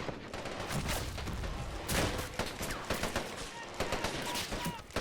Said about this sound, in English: 25-pounders firing directly at the armored vehicles now